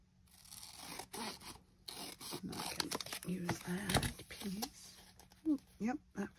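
Scissors snipping and rustling through paper ephemera at a journaling desk, a series of close crisp cuts and crinkles mixed with soft talking.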